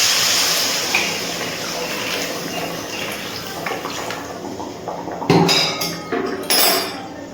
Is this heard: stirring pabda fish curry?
yes